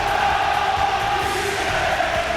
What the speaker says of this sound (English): Great crowd inside here